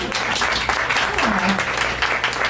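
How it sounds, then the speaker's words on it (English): A dense round of audience applause after a panel discussion at a Bay Area women's event fills the room, with a voice speaking over the clapping throughout. "Give yourself a round of applause."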